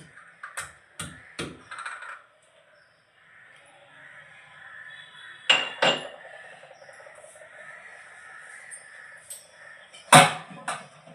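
Two cloves of garlic are pounded in a small glass, giving sharp, hard knocks: a quick cluster of three or four, a pair a few seconds later, then a single louder strike, with quiet stretches between.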